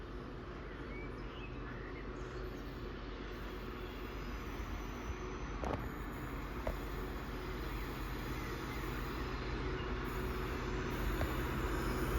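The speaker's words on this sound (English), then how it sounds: "Passing is our class 66." A GBRF Class 66 diesel freight locomotive passes by trackside. Its distant, steady rumble and rolling wheel noise hold at a fairly quiet level for the whole stretch.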